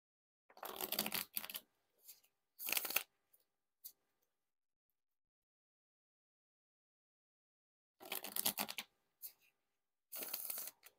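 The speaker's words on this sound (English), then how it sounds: "Now we'll attempt the riffle shuffle or bridge shuffle." Thin Nintendo Kirby playing cards are riffle shuffled and bridged, giving quick close crisp fluttering bursts in two groups separated by a long silent pause.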